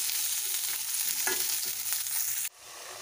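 Cowpea beans sizzling with browned green chilies in a pan, a steady bright frying hiss with a few soft stirring scrapes, cutting off abruptly near the end to a quieter hiss as if covered; no voices.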